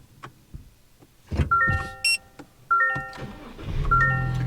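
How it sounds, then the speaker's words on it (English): A 2025 Toyota Tacoma pickup engine cranks and catches, with electronic chimes and beeps sounding over it; the idle then settles into a steady low rumble. "And you can see there that the truck did indeed start"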